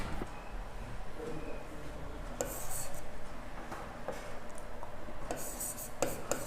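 A pen or chalk scratches and taps while a maths solution is written out, with short scraping strokes and clicks spread irregularly over faint room noise.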